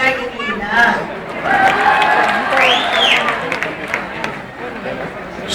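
An audience at a live Kannada talk show event in Shimoga applauds steadily throughout, a continuous wash of clapping and crowd noise with some voices mixed in.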